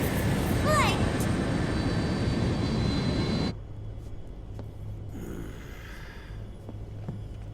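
A steady aircraft engine drone fills the inside of a plane in the video game Metal Gear Solid 4. It roars loudly for a few seconds, then drops abruptly to a quieter, low hum.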